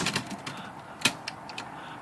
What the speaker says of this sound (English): Let's reverse it, get it typing that direction so you can see the spools.